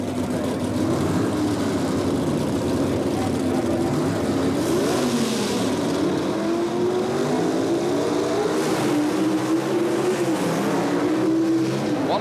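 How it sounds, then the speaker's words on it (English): A 438 cubic inch big block Chevy Camaro and a rival car launch side by side in handicap eliminator drag racing at the 1977 NHRA Springnationals, engines roaring loud and continuous with rising revs throughout. "438 cubic inch big block Chevy Camaro, Richard Oakes, against Wally Jacobson."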